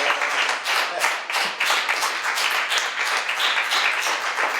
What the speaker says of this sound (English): Please continue that round of applause for Sheldon Alexander.